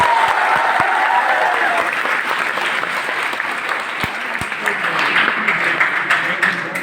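Audience at a university meet-up for civil service toppers claps steadily for several seconds, a dense, fairly loud wash of applause with a few sharp individual claps and faint voices underneath.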